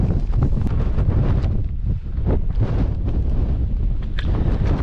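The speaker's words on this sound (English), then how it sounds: "It's blowing a gale up there." Strong gusts roar across the microphone on a wet, blustery mountainside, buffeting in repeated loud surges with brief lulls between them.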